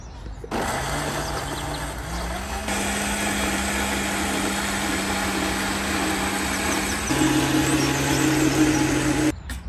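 A mixer grinder whirs steadily and loudly, grinding a wet masala paste with water for a village-style jumbo prawn curry, its motor pitch stepping up and shifting as the load changes before it cuts off.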